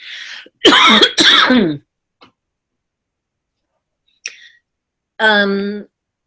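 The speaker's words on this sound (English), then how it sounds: "I have a little cough" Two harsh, close coughs in quick succession, then a pause and a brief voice at the end.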